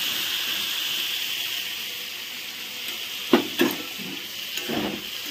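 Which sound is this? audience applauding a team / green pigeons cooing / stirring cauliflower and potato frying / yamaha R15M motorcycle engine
stirring cauliflower and potato frying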